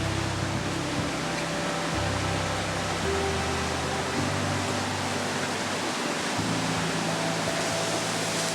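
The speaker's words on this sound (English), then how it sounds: "Oh, and I can see a waterfall right over there." A waterfall on a forest river in Pakuratahi Forest, New Zealand, pours with a constant broadband rushing hiss, steady and enveloping, with a faint low hum beneath.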